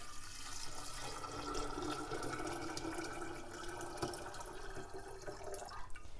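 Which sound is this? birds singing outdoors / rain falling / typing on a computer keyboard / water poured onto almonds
water poured onto almonds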